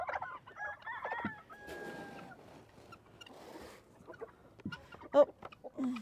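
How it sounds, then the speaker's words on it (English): A rooster crows close by, followed by scattered clucks and soft fowl chatter in the background, with an occasional louder squawk. "That's a pretty rooster right there."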